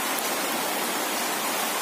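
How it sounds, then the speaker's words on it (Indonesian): Heavy rain pouring steadily, a dense, close hiss of falling water that stays constant and loud throughout, with no voices. "Hari ini hujannya cukup deras, wah."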